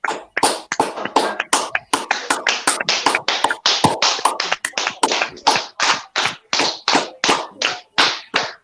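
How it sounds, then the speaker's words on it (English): A small group of people at home clapping for NHS key workers, about two dozen loud, sharp, close claps in a steady, slightly uneven rhythm, with no talking. "All right then, kids, family, let's clap for the NHS"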